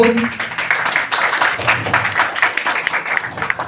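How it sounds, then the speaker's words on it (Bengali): Applause from an audience at the opening ceremony of Rice Adamas Kids school in New Garia housing, a steady wash of clapping lasting several seconds. "আমরা এই সুন্দর মুহূর্তটাকে করতালির মধ্য দিয়ে উদযাপন করব।"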